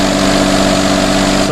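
A Daihatsu Tanto L350S engine idles steadily after head gasket repair, a loud, close, even hum with a constant low rumble and no change in pace.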